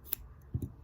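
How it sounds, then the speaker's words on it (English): Scissors snip off excess quilt binding fabric with a few quick, fairly quiet cuts: one short crisp snip, then two close snips just afterward. "I'm going to cut that excess above that sewing line again"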